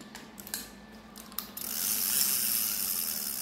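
Viking 5040 fishing reel cranked, a few soft ratchet clicks followed by a smooth, continuous whirring as the handle turns, close and fairly quiet.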